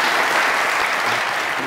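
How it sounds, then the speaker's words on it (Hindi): Audience at a comedy show bursts into dense, sustained applause, loud and close, filling the whole moment without pause. "सर के लिए तालियां बजाएं"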